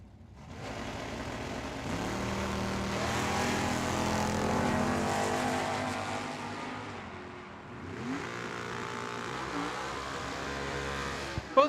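At a drag strip, a 1970 Camaro and a 1996 Corvette race side by side, their engines droning loudly and steadily as they accelerate, with pitch climbing through the gear changes and a sharp click at the end.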